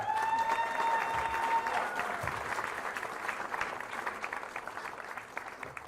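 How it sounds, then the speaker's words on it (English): A crowd at a boxing press conference in Flint applauds boxer Claressa Shields, starting with a brief sustained tone over the clapping, then steady dense clapping that gradually thins toward the end. "Give her a round of applause."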